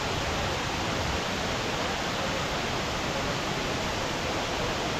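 Tirathgarh waterfall gives a dense, unbroken broadband roar of falling water, steady and loud throughout with no voices.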